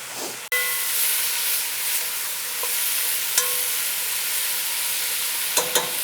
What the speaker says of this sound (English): I am going to add our onions and bell peppers to the pan